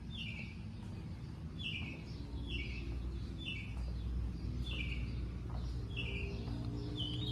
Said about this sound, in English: Want to make sure y'all hear those birds chirping.